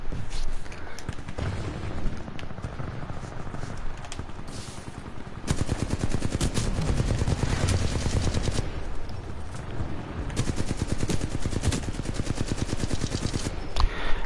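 Gunfire in a video game shooter: bursts of rapid automatic fire crackle loudly, with a sparser stretch early on and then long dense rattling volleys, and no voices over them.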